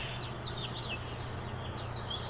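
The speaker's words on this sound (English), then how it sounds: "Listen to the birds." Birds chirp outdoors in quick high calls over a steady low rumble of background noise, fairly faint and with no talk.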